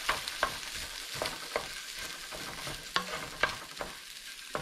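Day-old cold rice stir-fried in a hot pan for simple fried rice, a continuous sizzle broken by quick rhythmic scrapes and tosses of the spatula, close and fairly loud.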